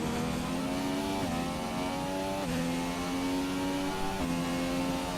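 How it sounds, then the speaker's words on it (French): A McLaren Formula 1 car in the F1 2017 video game drives through the last corner at Bahrain, its high-pitched engine revving loudly and continuously through repeated gear shifts, each drop in pitch followed by a rising climb. "Et Hellboy va rentrer dans le dernier virage."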